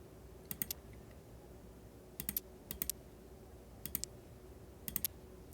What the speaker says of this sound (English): We'll just have the nice clicking sounds of the tessera.